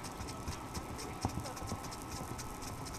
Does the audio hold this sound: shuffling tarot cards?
no